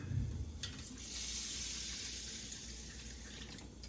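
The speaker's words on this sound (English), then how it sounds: "Now I'm going to fill this up with some water." A kitchen tap runs water into a jar with a steady, close rushing hiss that starts after a brief clatter and continues without pause.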